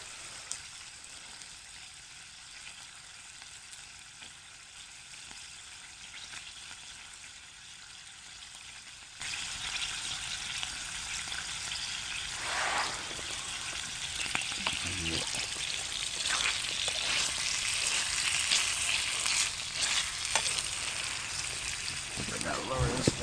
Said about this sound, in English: I like my bacon a little crispy